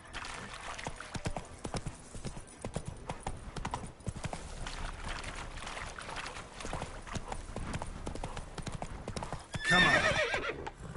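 Roach, the horse in The Witcher 3: Wild Hunt, gallops in a long, fast, steady drumming of hooves that runs throughout, with a brief loud snort or whinny close by near the end.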